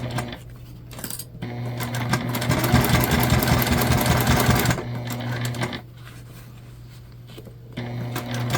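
A sewing machine stitches a long connector strap for a bucket bag, running in a steady whirring burst that swells in the middle, with short clicks and pauses around it and a low motor hum throughout.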